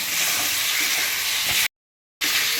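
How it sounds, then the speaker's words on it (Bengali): Fried potatoes being sautéed in a pan for a vegetarian chana dal fritter curry, a steady, loud hiss and sizzle with faint stirring scrapes, broken by a brief silent gap before the sizzling resumes. "আলুগুলো দিয়ে একটুখানি কষিয়ে নেব"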